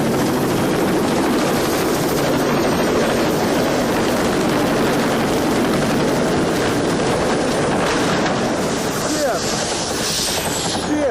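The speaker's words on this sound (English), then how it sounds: "a Navy helicopter CH-46 missed the landing deck on a ship at sea and ended up crashing into the ocean" Loud, continuous rotor roar of a large CH-46 Navy helicopter close by, a constant heavy thrum that holds throughout.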